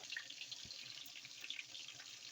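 Water pours into a pot for beef stew, a soft, steady hiss that keeps running the whole time, faint and with no talk over it.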